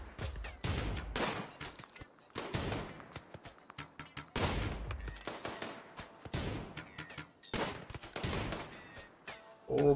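Gunfire during a Rimworld raid: loud, sharp volleys and rapid shot bursts arriving in uneven clusters with brief pauses between them, steady and up front throughout.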